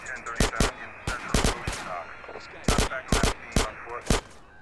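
Gunfire in the video game GTA San Andreas: sharp, loud single shots in quick pairs and clusters, spaced across the moment with brief pauses, close and punchy over faint game ambience.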